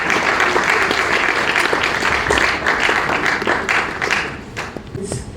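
Loud, steady clapping from a school audience for a speech contest entrant, dense and continuous before easing slightly toward the end.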